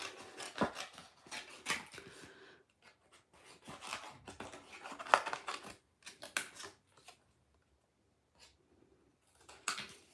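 Scissors cutting black paper for DIY typewriter-key crafts, a series of quiet close snips and paper rustles in irregular bursts, with pauses of near silence in between.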